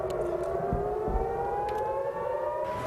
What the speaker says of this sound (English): These sirens give about a 1-minute warning prior to the explosions of the missiles that are launched from Gaza.